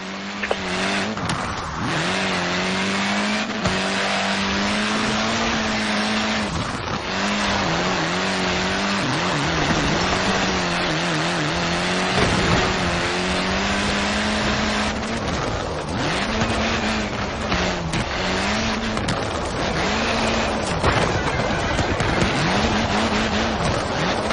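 Forza Horizon 4 car power-sliding in a drift club event, the engine roaring and revving up and down continuously while tires squeal through the slides, loud and close for the whole stretch.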